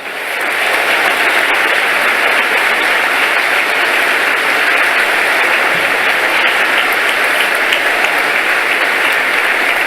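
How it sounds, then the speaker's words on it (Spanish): Loud, steady applause from a church congregation fills the whole stretch without a break, dense and even, with no voices rising above it. "Denle un fuerte aplauso al Señor."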